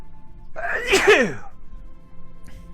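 A single loud, close sneeze with a sharp burst lasting about a second, followed by quiet room tone.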